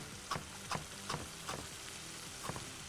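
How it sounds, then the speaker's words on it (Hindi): Dumba karahi meat sizzles in a pan while being stirred, with soft scraping strokes at a steady rhythm of about two or three per second over the continuous frying crackle. "ज़रा सा ये भुन रहा है"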